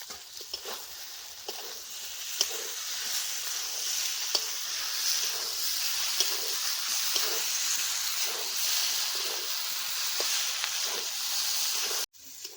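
Goat liver pieces frying with spices in a pan, a steady loud sizzle and hiss running throughout with faint occasional stirring clicks, cutting off abruptly near the end.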